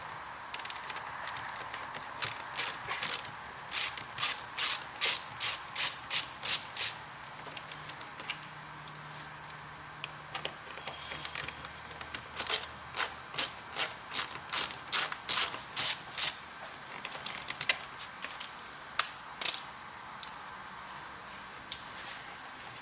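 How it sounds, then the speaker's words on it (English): Screws being backed out of the front Bose speaker panel on a Corvette C3, heard as bursts of rapid ratcheting clicks in two long runs with brief pauses, close and fairly quiet, with no talking. "Now we're going to remove the 2 screws that are straight down."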